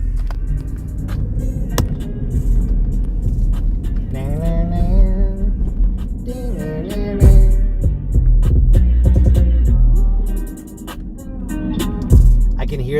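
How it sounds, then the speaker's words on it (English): A car engine revving at a Saturday night cruise in Denver, Colorado: low, throbbing engine rumble surging and dropping, fairly loud, with people talking over it. "I can hear that dude in the yellow car just flaring it out."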